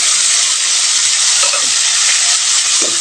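Onions and tomatoes fry loudly in a pan, giving a dense, constant hiss with faint stirring scrapes underneath and no speech.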